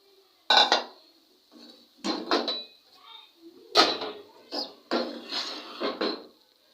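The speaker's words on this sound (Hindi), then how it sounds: "साथ साथ हम इसको अच्छी तरह से हिला लेंगे।" A spoon stirs boiled mung dal with garlic and ginger paste in a metal cooking pot, producing several separate bursts of scraping and clinking against the pot with short quiet gaps between them.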